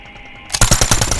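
Rapid automatic machine gun fire bursts out loud and close in Call of Duty Mobile, a quick rattling string of shots after a brief quiet moment.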